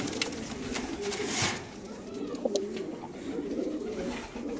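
BRPFC racer pigeons coo softly and repeatedly close by, their low murmuring calls mixed with occasional wing or cage rustles and faint ambient noise.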